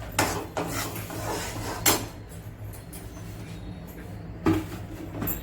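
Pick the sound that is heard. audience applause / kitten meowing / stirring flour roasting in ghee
stirring flour roasting in ghee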